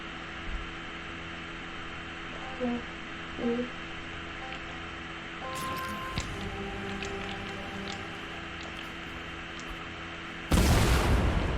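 A barrier blows up inside a Fortnite Creative box fight map, heard as a sudden loud broadband burst near the end, standing out over a steady hum of game ambience and a few faint earlier blips.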